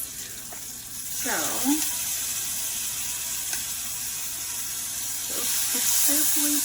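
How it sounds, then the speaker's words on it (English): Steady bright hiss of shrimp frying in hot oil, crackling continuously, with a voice speaking over it. "I love that sizzle sound"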